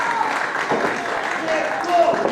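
A crowd at the Terry Fox Theater applauds steadily at a women's wrestling match, a dense wash of clapping with a commentator talking over it.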